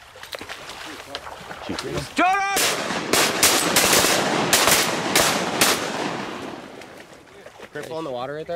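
Shotgun blasts ring out in a rapid volley during a duck hunt, several loud sharp reports close together, with a shout just before and voices at the end.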